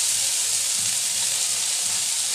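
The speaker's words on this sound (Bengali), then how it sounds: "এবার ভেজে নেব আমি ধনিয়া পাতা, একদম কুচি করে দিয়েছি" Finely chopped coriander leaves fry in hot oil, giving a steady, close, even sizzle with no talking.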